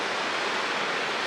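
Ocean surf breaks on a beach in Byron Bay, a steady broad wash of waves heard up close and continuous for a brief moment, with no voices.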